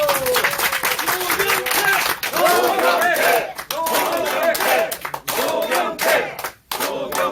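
Crowd at an indoor political press event in Jongno chanting a name in unison and cheering, with bursts of clapping, loud and sustained, a voice talking over parts of it.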